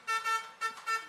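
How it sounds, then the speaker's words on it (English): New trucks honking outside at a truck handover ceremony, four short horn toots in two quick pairs, fairly close and clear with no talk over them. "you will also hear the honking of the horns for the new truck and trucks that's outside"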